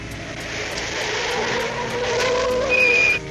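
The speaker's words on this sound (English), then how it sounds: "I better take a look at those squeaky brakes" Car brakes squeaking in a cartoon, a thin rising squeal over a steady engine-like hum that grows louder toward the end before stopping abruptly.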